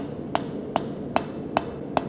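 A ball peen or rounding hammer upsets a piece of hot steel standing on end on an anvil. Five sharp, evenly spaced metallic strikes ring out close, alone over a faint background hum.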